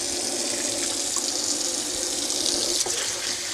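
Steady, continuous running tap water splashes over drained beans in a colander at a sink, a close broadband rush with no talk.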